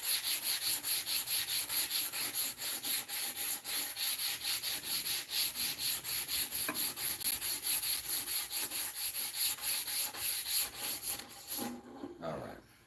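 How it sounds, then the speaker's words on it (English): Sandpaper rubs back and forth over a wooden cane in a steady, even rhythm of close strokes, roughly two per second, continuing for most of the stretch before slowing and stopping near the end, with no talking. "So now I'm going to move into a lighter grit. This is going to be a 120."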